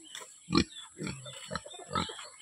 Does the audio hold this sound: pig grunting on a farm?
yes